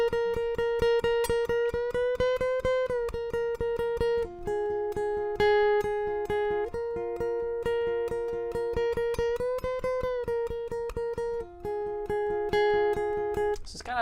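Clean guitar picks the repeating intro figure of a song in an even, plucked rhythm, shifting between a few sustained chord shapes over fourteen seconds, clear and close with no talking.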